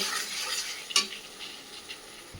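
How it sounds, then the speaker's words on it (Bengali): Mutton masala with salt, turmeric and a splash of water is stir-fried in a pan, a soft sizzle under scraping stirs, with one sharp utensil clink near the middle; close and fairly quiet. "দিয়ে ভালো করে আমি আবার মশলাটাকে কষিয়ে নেব"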